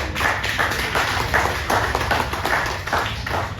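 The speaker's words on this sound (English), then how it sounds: "I want to just give a big round of applause to Derek James" Applause from a crowd at a boxer's post-fight press conference for Jermell Charlo, a dense steady patter of many hands clapping throughout, fairly loud and close with no voices over it.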